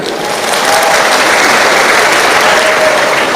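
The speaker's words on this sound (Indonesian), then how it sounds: "Tepuk tangan untuk NU." Loud, dense applause from a large audience at a Nahdlatul Ulama gathering, sustained evenly after a brief rise at the start.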